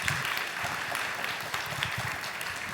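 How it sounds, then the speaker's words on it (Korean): Audience applause for three speakers at a startup conference session in Seoul, a steady dense wash of clapping from a large crowd that holds evenly for the whole stretch without talk. "오늘 얘기 많이 해주신 세 분한테 박수 부탁드립니다."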